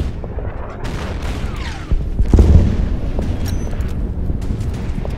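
Gunfire and explosions from the wartime strategy game Order of Battle, with a heavier boom near the middle over a steady rumbling battle bed, no talking.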